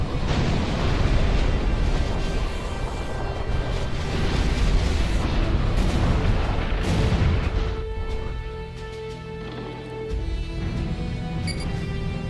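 Missile launcher barrages in the Supreme Commander 2 strategy game, a continuous roar of overlapping explosions and booming impacts that stays loud throughout and eases off slightly in the final seconds, with no speech.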